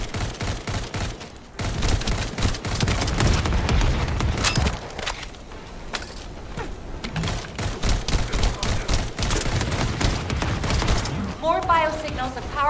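Rapid gunfire from a player's gun in The First Descendant on PS5, dense bursts of shots rattling almost continuously with brief gaps, mixed with game effects and a streamer's voice talking over parts of it.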